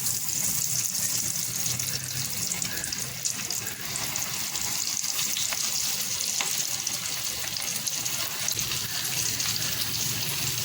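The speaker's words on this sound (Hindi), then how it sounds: "आपको बिल्कुल इस तरह से तलना है कि जैसे पकौड़े तलते हैं।" Chicken broast deep frying in hot oil gives a steady, dense crackling sizzle that continues evenly throughout, close and moderately loud.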